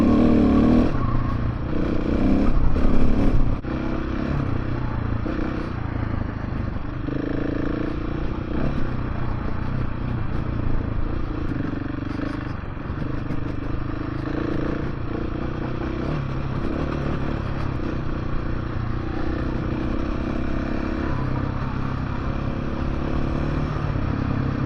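A 2024 KTM 690 Enduro R motorcycle ridden off-road, its single-cylinder engine droning steadily and close, with brief louder revving near the start and constant clatter and scrape from the terrain.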